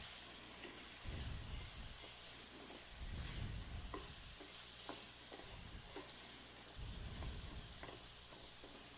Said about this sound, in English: So just let that saute like that